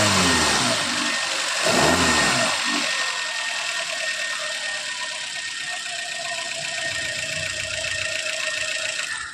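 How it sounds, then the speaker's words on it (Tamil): Suzuki Baleno with a 1.2 litre engine idling steadily, a loud, close mechanical hum with a brief rev near the start and a faint whine running throughout. "ஸோ என்ஜினோட நாய்ஸ் கேட்டிருப்பீங்க நீங்கள்."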